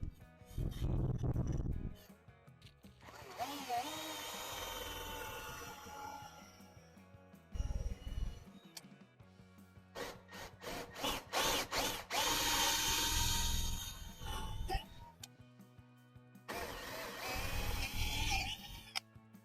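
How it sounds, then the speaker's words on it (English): A hand drill cuts countersunk holes for guitar binding in several loud, close bursts of whirring. The bursts are separated by short pauses and some handling clatter. "I'm just going to use a hand drill."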